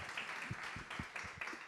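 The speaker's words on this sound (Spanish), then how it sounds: "Un aplauso para Milena." Audience applause at a Latin American circular economy festival event, a brief burst of scattered clapping from a crowd, fairly soft and steady throughout.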